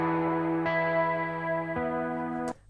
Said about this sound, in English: Just playing in some riffs.